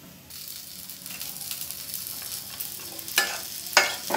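Lentil dumplings go into a sizzling potato and flat-bean Katla fish curry, a steady close frying hiss with spoon stirring and two sharp scraping clatters near the end, no voices.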